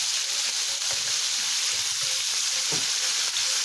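Chicken pieces frying in hot oil, skin removed, as they are turned over in the pan: a steady, loud, dense sizzle runs throughout, with a few soft low bumps and scrapes from the flipping beneath it, no talking.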